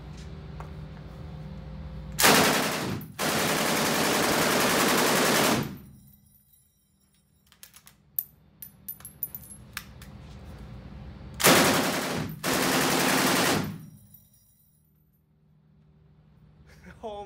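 An M240 Bravo machine gun fired from the shoulder at an outdoor shooting range, two long loud sustained bursts separated by quiet with scattered clatter and shell noise between them.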